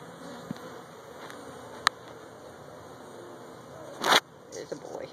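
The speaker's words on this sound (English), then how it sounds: "We let the bees out." A steady, close buzzing hum of bees fills the background, broken by a few short clicks and a brief burst of noise.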